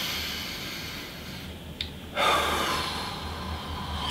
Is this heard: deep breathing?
yes